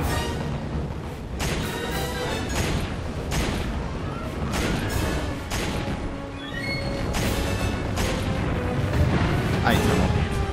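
Dense, continuous gunfire and explosive booms from Resident Evil 5 fill the whole stretch, loud and layered, with a voice talking over the action.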